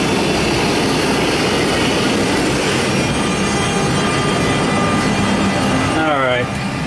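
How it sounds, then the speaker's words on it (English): Air conditioning runs inside a parked MD-10 aircraft on a warm day in Houston, a loud, steady broadband whoosh that fills the whole clip before briefly dipping near the end. "That's why I've got the damn air conditioning on."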